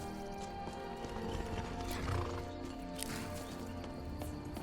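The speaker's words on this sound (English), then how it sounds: "we're gonna have the horse follow us instead" Hooves clip-clop steadily as a horse follows along in an alchemy video game, with a whinny rising partway through over a constant hum of background game music.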